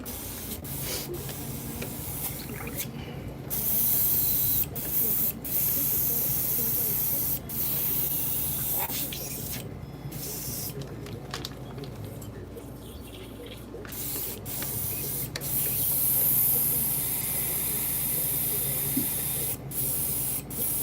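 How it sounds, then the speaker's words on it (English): Airbrush sprays in steady hissing bursts as yellow paint is flushed out between colours on a fishing lure, with short pauses and light handling noise throughout. "Let's clean out the airbrush, get the yellow out of there, and we will go over to the red."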